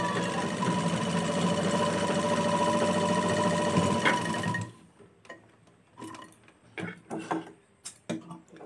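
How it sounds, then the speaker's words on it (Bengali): A sewing machine stitches a churidar, running in a steady rapid whir for about four and a half seconds before stopping abruptly, followed by quieter scattered taps and clicks of handling. "মেশিনের কাজ বলতে একটা চুড়িদার সেলাই করছি এখন।"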